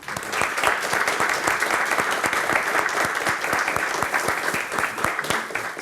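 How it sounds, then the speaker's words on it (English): Applause at an academic ceremony at Aalborg University honouring a newly appointed distinguished professor, a steady room-filling clapping from the audience, even and sustained for several seconds. "we should give an applause to our distinguished professor, Gregory Lepp."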